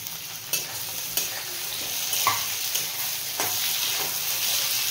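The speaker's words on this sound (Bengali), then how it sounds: "পেঁয়াজটা আমি একটুক্ষণ ভেজে নিয়েছি" Onions sizzle steadily in a pan, with sharp scraping stir strokes landing about every second, close and clear.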